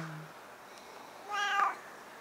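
A single short meow from a ten-year-old stray cat, clear and fairly close, rising over quiet background noise.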